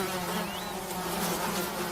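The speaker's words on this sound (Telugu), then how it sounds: "దీని మీద ఎన్ని ఈగలు ముసురుకున్నాయో చూడండి." Flies buzz steadily around an impala carcass in the Indian wild, a dense, continuous insect drone close to the ear with no talk over it.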